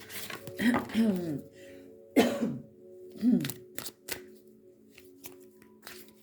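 Several harsh coughs come in separate bursts, loud and close, with a short pause and further throat noises between them and no talking.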